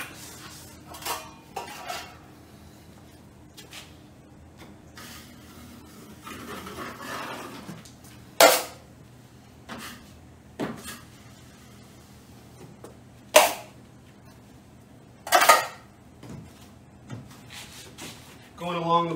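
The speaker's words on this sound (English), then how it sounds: "Grab my mud pan, 12 inch knife." A 12-inch drywall knife scraping and clanking against a metal mud pan during skim coating, sharp intermittent metallic knocks and scrapes close by, with quiet talk in between.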